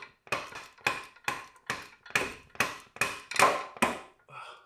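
Eight evenly spaced metallic knocks strike in a steady rhythm, each sharp and ringing briefly, close up, followed by a lighter clink, as a car axle on a BMW 335i is knocked like a slide hammer.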